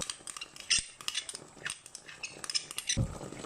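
A spoon clinks and scrapes against a bowl while a savory sauce of ketchup, sugar, oyster sauce and mushroom soy sauce is stirred, giving several close, light metallic taps and rattles with a louder knock near the end.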